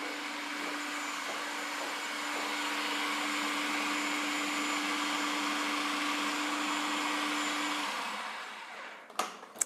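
A blender grinds chickpeas with cumin and salt for hummus, a steady loud motor whir with a constant hum that runs for several seconds, then winds down and ends in a few knocks.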